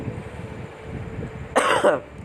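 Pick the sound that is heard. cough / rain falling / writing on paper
cough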